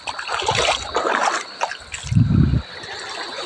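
Seawater laps and trickles at a clear seashore in the Philippines, soft broadband washing with a brief deeper gurgling surge near the end, close and moderately loud with no talking.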